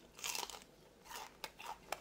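Crunchy deep-fried blue crab is bitten and chewed up close, with a few loud crisp crunches early on and then sharper isolated cracks between softer chewing, no talking.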